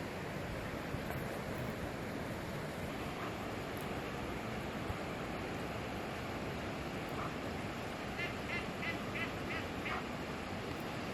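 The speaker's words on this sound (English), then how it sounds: "Duck goes from power walking to power swimming." Ducks quack in short repeated bursts, a few distinct calls near the end, over steady broadband wind and water noise outdoors on a muddy riverbank.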